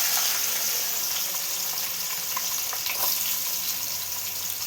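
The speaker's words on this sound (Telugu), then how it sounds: "ఇప్పుడు వీటిని గోల్డెన్ బ్రౌన్ వచ్చే వరకు ఫ్రై చేసుకుందాం." Chopped onions and green chillies fry in hot oil with a continuous, fairly loud sizzle and crackle, punctuated by a few faint stirring clicks.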